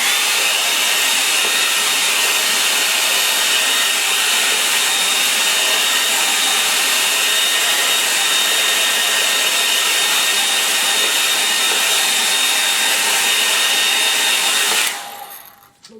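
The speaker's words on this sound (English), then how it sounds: "I'll give it a hand with the hairdryer." A hairdryer dries a watercolour painting of a quiet Suffolk estuary: a loud, steady blowing whir that runs evenly for most of the clip, then winds down and cuts off near the end.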